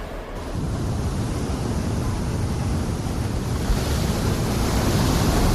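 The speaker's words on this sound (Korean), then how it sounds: "남극권에 진입하면서 갑자기 파도가 높아지기 시작했다." High ocean waves near Antarctica heard from the Korean icebreaker research ship Araon, a steady loud roar of surf and rushing water with heavy wind buffeting the microphone throughout.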